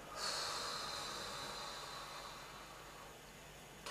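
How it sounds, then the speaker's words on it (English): A slow, deep breath drawn in during a calm tapping relaxation exercise, heard as a soft steady airy hiss that fades gradually, close to the microphone. "Deep breath in. Slow breath out."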